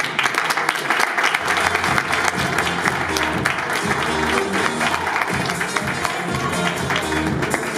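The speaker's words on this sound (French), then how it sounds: "Je vous demande des applaudissements au meilleur IC France, Guillaume Chan." An audience breaks into sustained, dense applause for an award winner at a French company event, loud and close, with voices faintly audible among the clapping.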